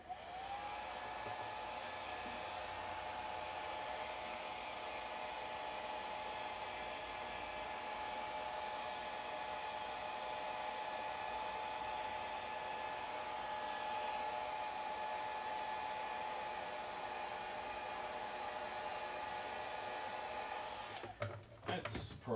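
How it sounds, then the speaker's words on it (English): A hairdryer blows in a close, loud, unbroken whoosh with a steady motor hum, drying paint on a Nighthaunt Lord Executioner miniature for about twenty seconds before it clicks off. "I'm going to quickly hit this with the hairdryer, just so the top layer of this is dry"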